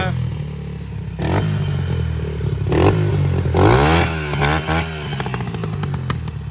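A Honda TRX 250X ATV engine idles with a steady, rough putter close by, briefly revving higher a few times before settling back.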